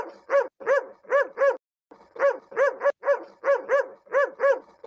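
A dog barks nearby in quick, loud pairs and runs of sharp barks, with one brief pause before the barking resumes at a steady rhythm.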